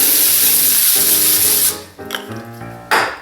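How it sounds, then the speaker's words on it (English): Cooking spray hisses onto a pan in one long, bright burst of about a second and a half, followed by a shorter spurt near the end, close and loud over a faint low background hum. "Then I'm gonna spray it down with some cooking spray."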